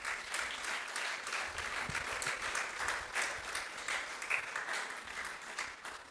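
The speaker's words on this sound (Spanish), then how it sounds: "dale un fuerte aplauso a Jesús" Church congregation applauding steadily after a call to clap for Jesus during a Pentecostal sermon, a dense, continuous wash of many hands filling the room for several seconds with no speech.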